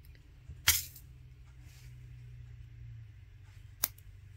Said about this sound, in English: now I can go ahead and snip that.